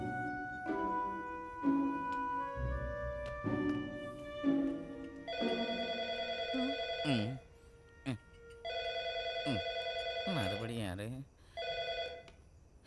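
An old-style telephone bell rings in a movie scene in repeated bursts, first under speech and then alone and loud in long trilling rings.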